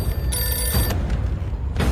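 A telephone rings with a bright trilling tone in a KGF Chapter 2 movie scene, heard over a booming, rumbling soundtrack.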